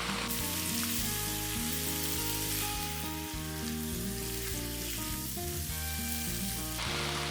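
Stuffed pepper meat filling frying and being stirred in a pan, a dense steady sizzle like light rain with intermittent stirring, quiet and without speech.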